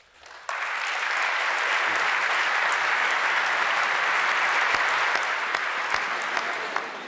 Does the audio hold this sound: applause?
yes